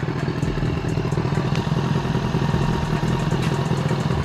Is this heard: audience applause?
no